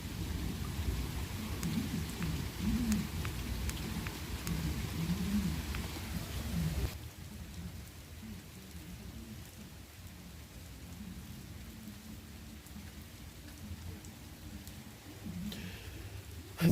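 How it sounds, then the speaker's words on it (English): Steady rain falls outdoors, a dense hiss of drops pattering on surfaces with a low rumble underneath, loudest in the first seven seconds before settling to a softer continuous patter with no voices. "oh, actually, it's raining again."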